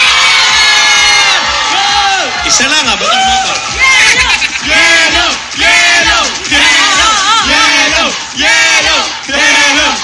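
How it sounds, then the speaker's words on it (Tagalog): A studio audience at a Filipino noontime variety show, Eat Bulaga, shouts and cheers loudly and continuously in rising and falling waves, with a host talking over the crowd throughout. "Isang palakpakan na may kasamang sigawan!"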